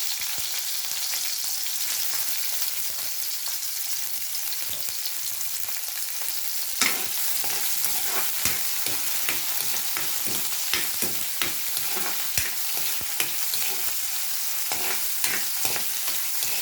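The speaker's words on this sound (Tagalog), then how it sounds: "Mag-start na tayo ng gisa ng bawang." Garlic and onion sautéing in a pan at home for chicken sotanghon, a steady sizzle with a run of sharp, regular scraping strokes from stirring in the second half.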